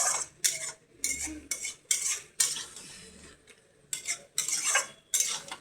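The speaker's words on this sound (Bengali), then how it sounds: "কন্টিনিউ নাড়া দিচ্ছে, তা সত্ত্বেও দেখো কড়াইতে লেগে যাচ্ছে" A metal spatula scrapes and stirs katla fish head with taro greens in a wok, coming in repeated short bursts with brief pauses, close and moderately loud, with no talk.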